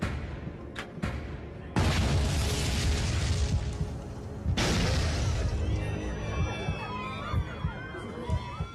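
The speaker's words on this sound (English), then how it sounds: "Two explosions rock the plane." Two loud, dramatized explosions burst aboard a Japan Airlines jet in flight, each a sudden broad roar that holds and rumbles on, followed by a tense, hissing cabin din.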